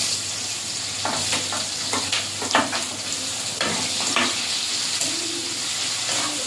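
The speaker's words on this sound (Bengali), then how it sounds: "পেঁয়াজটা ভাজা ভাজা করে নেব" Chopped onions sizzling in oil in a wok with cardamom, stirred repeatedly, producing a continuous close frying hiss punctuated by scraping stirs against the pan.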